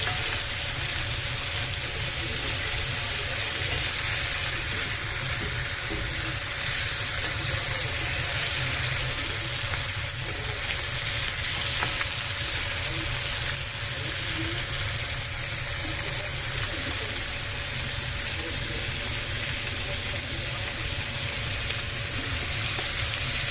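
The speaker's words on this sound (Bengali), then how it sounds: "চিংড়ি মাছটা বেশি ভাজি না, হালকা ভাজবো।" Shrimp frying lightly in a pan give a steady, even sizzle with a faint watery hiss. It runs unbroken and fairly close for the whole stretch, with no talking.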